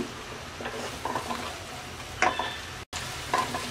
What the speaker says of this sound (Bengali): 1 টুকরো দারচিনি, 3টা ছোট এলাচ, রসুনটাকে হালকা ভেজে নেব